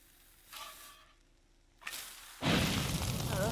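Grilled cheese cooking on a cheap stove in The Sims 4, with short whooshing and sizzling bursts that give way to a loud, sustained hissing roar of frying, close and alone.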